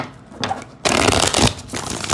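A deck of cards being shuffled close by, a quiet riffle followed by a louder, longer flurry of flicking cards.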